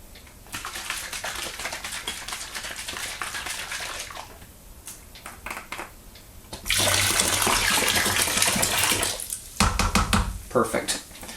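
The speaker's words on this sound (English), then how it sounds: "So I filled it up with a little bit of hot water." Hot water pours and splashes into a home beer brewing container in bursts, louder and fuller in the latter half, with a person talking over parts of it.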